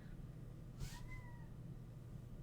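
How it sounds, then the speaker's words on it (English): A pet cat named Romeo gives a single faint, drawn-out meow, quiet and a little distant, over a low steady background hum. "Is that your cat?"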